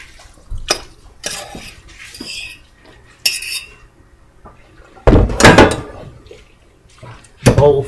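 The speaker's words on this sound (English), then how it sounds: "And as you're mixing, you can tell if you have enough cheese." Macaroni and cheese being mixed in a bowl at a kitchen sink, with scattered clinks and scrapes of utensil against the dish, a couple of louder clattering bursts near the end, and faint talk in the background.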